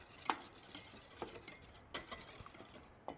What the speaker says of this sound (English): And I'm just going to whisk these.